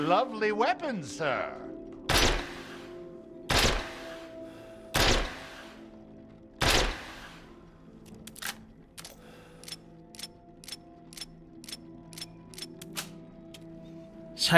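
Rocket Pistol fired repeatedly in the video game Resident Evil Village, giving four loud, sharp explosive bangs spaced about a second and a half apart, followed by a run of quicker, lighter pops.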